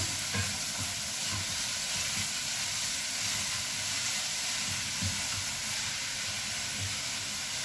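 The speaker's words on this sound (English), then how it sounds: "we're going to stir to avoid the onions overcooking or rather burning" Cabbage and onions fry in a pan with a constant bright sizzle and hiss, while rhythmic low scrapes and knocks of stirring recur every second or so underneath.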